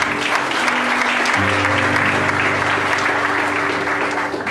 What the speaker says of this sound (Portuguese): Um aplauso a Jesus aí